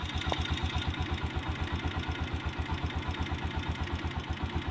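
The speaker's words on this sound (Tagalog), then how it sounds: "pansinin nyo yung lagatek" A motorcycle engine idles at an even, fast pulse while a tappet rattle ticks along with each beat, close and steady with no talk.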